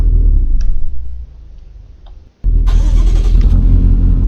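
A video game car engine in Euro Truck Simulator 2 cranks and catches, settling into a low idle before revving up loudly with a bright rush of noise.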